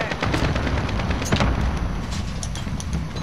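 Bursts of automatic gunfire in Call of Duty: Modern Warfare as players shoot down an enemy UAV, a dense, loud, continuous rattle of rapid shots with sharp cracks and no talk.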